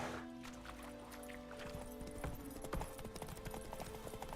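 Roach, Geralt's horse in the Witcher 3 video game, gallops with a rapid rhythmic clip-clop of hooves that grows denser and louder, over a steady hum of game music.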